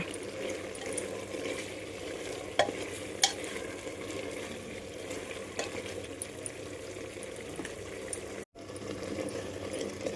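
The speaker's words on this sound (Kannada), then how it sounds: "ಈಗ ಫ್ರೈ ಮಾಡೋಣ." Masala for mutton biryani frying in a pan, a low, even sizzle with a couple of sharp utensil taps and a brief cut-out near the end.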